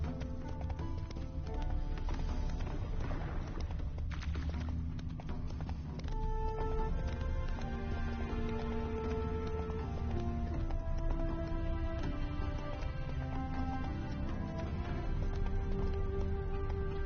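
Roach the horse gallops in The Witcher 3, hooves drumming in a steady rhythm beneath a continuous orchestral game score, with the music staying prominent over the hoofbeats throughout.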